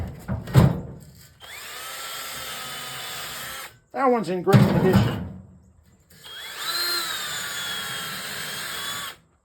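Drill spinning a bore brush inside the oil galleys of a 1914cc VW/Porsche magnesium engine case, whirring in several bursts with scraping and clunks, someone speaking briefly between them.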